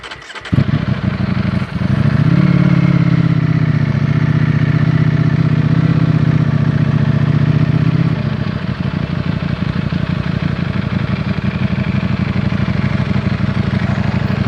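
A Ducati Desmosedici RR motorcycle engine cranks and fires up close and loud, holding a raised, rough rev for several seconds before dropping to a steady, throbbing idle with no voices.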